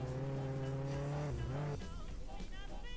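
A Mustang with a level 5 engine in Roblox Jailbreak launches off a ramp. The engine revs hard on steady pitched tones, dips and bends as it leaves the ramp, then breaks into rougher, scattered mechanical noise.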